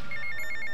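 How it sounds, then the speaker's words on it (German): A mobile phone ringing in the video game GTA Vice City, with a bright electronic ringtone pulsing in quick, even repeats, loud and alone for under a second. "Oh, das Handy klingelt."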